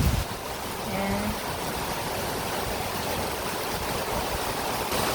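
Heavy rain falling outdoors as a dense, steady hiss with no pauses, heard alone without talk.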